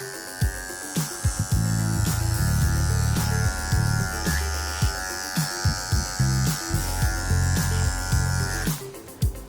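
Wahl professional electric dog clippers trim fur during a grooming session, a close, continuous motor buzz that wavers and bogs briefly as the blade moves through the coat, with no voices.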